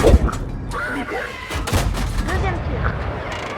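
Cannon fire from a KV-1 tank in a video game: a sharp, loud boom near the start, then rumbling blasts and game noise, with someone talking over it.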